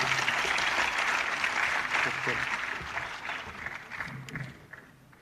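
Applause rises from an audience at a conference for disabled people in Amed, welcoming a parliamentarian to speak. The clapping is steady at first, then gradually thins and fades out.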